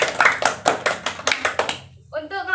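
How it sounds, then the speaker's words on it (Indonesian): Classroom applause for a student's correct answer, a burst of many hands clapping in quick uneven rhythm for about two seconds, close and lively, then stopping as a voice starts speaking. "Kemudian kita beri aplaus kepada Widya atas jawabannya."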